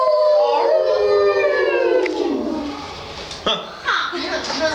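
Children imitate a wolf howl, one long sliding vocal howl that fades, then brief voices and short calls near the end, loud and close.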